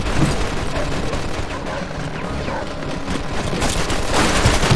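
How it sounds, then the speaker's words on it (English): Machine gun fire from the video game Mafia II rattles as a loud, dense, continuous fusillade of gunfire lasting several seconds with no pauses. "Looks like we found the machine gun!"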